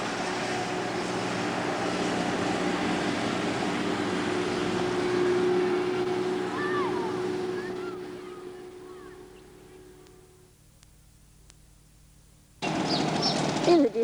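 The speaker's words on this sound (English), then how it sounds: "the noise you can hear that machine making, that is in fact vacuum cleaner that he uses to go around the school to collect all the leaves" A leaf vacuum machine worked by a school cleaner in 1995 drones steadily in the distance, a sustained mechanical hum that fades to near quiet, then cuts back in loudly near the end.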